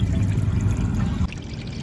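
Water pours and rushes steadily through a gold sluice during a concentrate cleanup, a close, continuous wash that drops slightly in level partway through.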